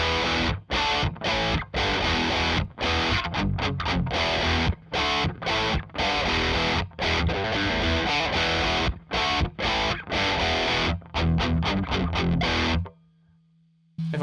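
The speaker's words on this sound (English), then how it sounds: "that's USA, which means it's tight and focused and sounds like this" Heavily distorted electric guitar through a Blackstar Series One 104 6L6 tube amp with the ISF control at 0 for a tight, focused USA voicing, played as loud palm-muted chugs and riffs with sharp stops, ending in a low hum.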